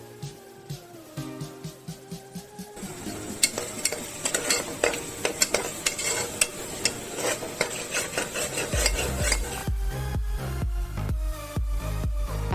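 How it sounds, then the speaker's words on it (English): Green chilies and chopped coriander being stirred into a ridge gourd shrimp curry, a utensil scraping and clinking against the pan in a steady rhythm over a faint sizzle, close up with no voices. "Add chopped coriander and stir it well."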